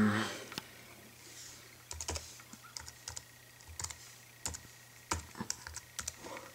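Fast, irregular key clicks from a computer keyboard being typed on, with bursts of several close strokes and short pauses between them, over a faint steady background hum.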